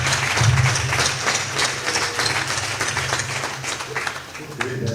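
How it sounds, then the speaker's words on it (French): Applause from an audience at an evening arts show in Cotonou, a dense wash of clapping that stays steady throughout, with a loud low hum and crowd murmur underneath. "Merci à vous pour ces applaudissements de bruit."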